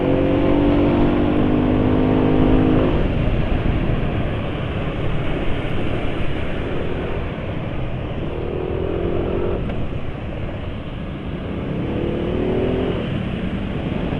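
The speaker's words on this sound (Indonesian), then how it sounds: "Suara mesin halus." A car engine runs steadily after a change to Bardahl 20W50 oil, giving a smooth, continuous hum at moderate level with no talk over it.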